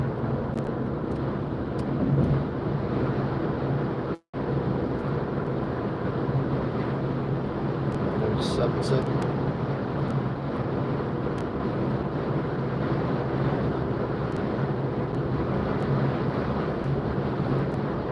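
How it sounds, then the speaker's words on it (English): Steady, loud wind rush and road roar fill a car cabin with the windows down while cruising in fifth gear during a lockdown drive from Wigan to Tameside. The noise is continuous, with one brief dropout. "It'll be a bit windy as well now, so I'll put the windows up."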